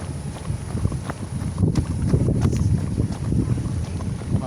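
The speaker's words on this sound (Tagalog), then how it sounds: "Malakas ang hangin." Strong wind buffeting a microphone outdoors during a jog, a steady loud rushing rumble with gusty swells and no talk.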